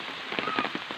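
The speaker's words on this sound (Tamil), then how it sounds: "சாரல் மழையாக பெஞ்சிட்ருக்கு." Light drizzling rain falling steadily on damp ground outdoors, a soft, even patter with scattered drops ticking through it over a single brief moment.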